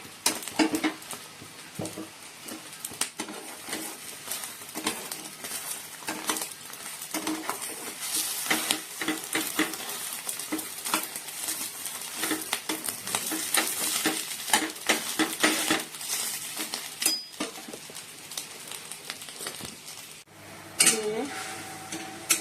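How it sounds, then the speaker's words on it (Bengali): Steady crackling sizzle of eggs frying in a pan, with occasional scrapes and clinks of a utensil against metal throughout. "আর এদিকে ডিম ভাজা হচ্ছে"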